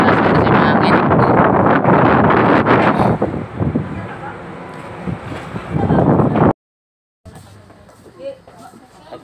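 Strong, roaring wind buffets the microphone on a fast boat bound for Leyte, over rushing water and engine noise, cutting out briefly before quieter rumbling continues.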